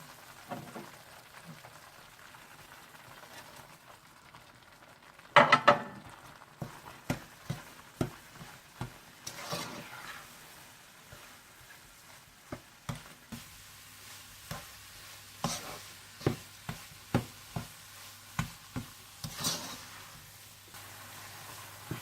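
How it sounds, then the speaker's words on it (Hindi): Sugar being stirred into gram lentil halva as it fries in a pan: a sequence of sharp spoon scrapes and clacks over a soft, steady sizzle, growing more frequent toward the end. "जब दाल अच्छी तरह से भुन जाए तो आप इसमें चीनी डालकर अच्छी तरह से मिक्स कर लें"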